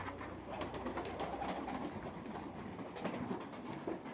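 A pigeon coos softly amid a constant rushing background, with fluttering noise in short bursts.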